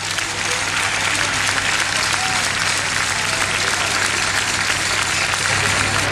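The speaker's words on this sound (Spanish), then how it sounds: "a mí también me gustaría pedirles un gran aplauso para nuestras guapísimas presentadoras, Marisa Laviña y Noelia Arregui" Sustained, dense applause from a large audience at a jota folk performance during the Fiestas del Pilar in Zaragoza, loud and steady throughout without a break.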